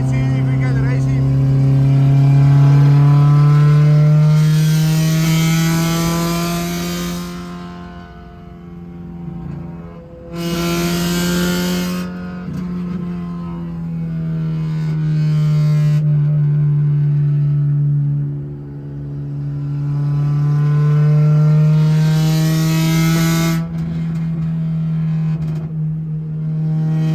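A Honda Civic with a K-series engine and a new exhaust drones steadily as heard from inside during a race, its pitch swelling and sagging as the car accelerates and shifts, with brief breaks in the sound.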